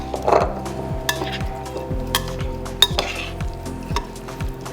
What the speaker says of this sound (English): you're gonna give it a good mix with some tongs